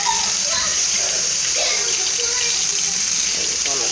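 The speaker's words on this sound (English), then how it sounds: "I'm just gonna start this water up." A kitchen tap runs into the sink to fill it for dishwashing, making a constant close rushing hiss throughout, with faint voices underneath.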